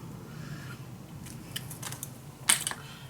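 Scissors snip through design paper being trimmed for a Polaroid photo mat, a few quiet crisp cuts near the microphone with one sharper snip toward the end, no talking.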